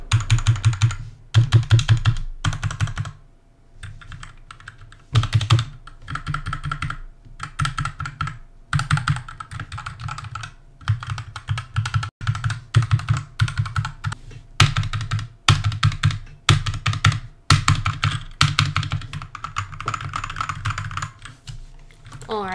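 Rapid, steady typing on an HK GK61 60% mechanical keyboard, close-miked, with bursts of crisp key clacks and brief pauses throughout.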